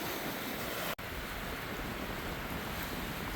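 Wind at a cabin campsite rushing steadily across the microphone as a loud broadband roar, broken by one brief dropout, with no talking.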